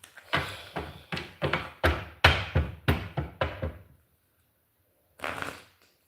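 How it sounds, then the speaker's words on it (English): A deck of tarot cards is shuffled in about ten quick, rhythmic riffles and taps, then goes quiet before one last shuffle. The sounds are close and there is no talking. "If I shuffle these cards again"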